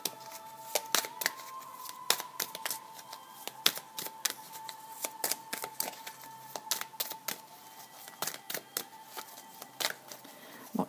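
Oracle cards shuffled and drawn, with rapid crisp flicks and snaps of card stock in irregular bursts over a faint steady tone, close and fairly quiet.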